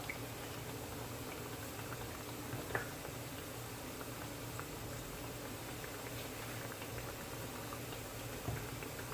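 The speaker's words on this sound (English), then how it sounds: "while my plantain is frying" Steady, faint sizzling and bubbling of plantain frying in oil continues throughout, with occasional soft pops and no voices.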